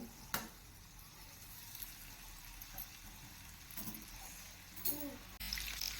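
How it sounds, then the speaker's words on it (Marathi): Oysters (kalwa) sizzle in hot oil in a small pan on a gas flame, a soft steady frying hiss with occasional crackles and a few louder clinks near the end, heard alone at low volume. "आता ही आपण कालवं तेलामध्ये फ्राय करायला टाकूया"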